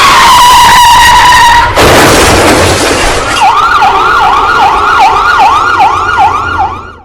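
Ambulance siren sound effect, loud and close: a steady two-tone wail gives way after a brief rush of noise to a rapid rising-and-falling yelp that repeats to the end, with no talking.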